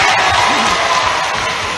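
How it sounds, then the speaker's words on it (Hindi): A large outdoor crowd at a political rally in Khachrod, Madhya Pradesh claps and cheers steadily for the Chief Minister, a dense, continuous wash of applause and shouts with faint voices mixed in. "जोरदार ताली बजाएं डॉक्टर साहब के लिए।"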